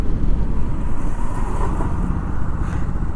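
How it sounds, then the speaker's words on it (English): A Hero Xoom 160 motorcycle with ABS braking hard from 70 km/h on a road, a steady broadband rush of tyre and wind noise held loud and even throughout, with no distinct skid squeal standing out. "Let me just show you guys the braking of this Hero Zoom 160 at 70 kilometers per hour"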